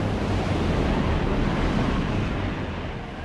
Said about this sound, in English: Here the clipper crews flew into the teeth of a raging storm.